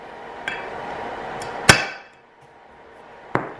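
A spring center punch snaps against a big stainless steel plate in a few sharp metallic clicks, one loud strike in the middle and lighter ones around it, close and isolated.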